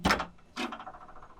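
The barn door on a Toyota LandCruiser is slammed shut twice in quick succession, two sharp close knocks followed by a brief rattling decay, with no talk.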